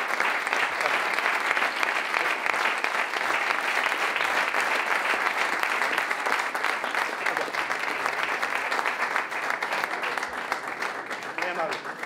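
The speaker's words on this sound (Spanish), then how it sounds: "merecidísima ovación" A large audience at a business conference gives a sustained ovation after a talk, dense steady clapping holding at full strength for the whole stretch.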